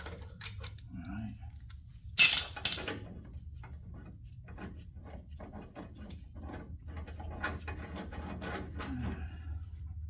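A ratchet clicks in short bursts while bolts are tightened on the rear spring plate of a 1956 VW oval-window Beetle, with a louder metallic clatter early on and quieter mechanical ticking after.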